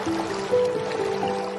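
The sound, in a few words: sound effect of water filling a sinking boat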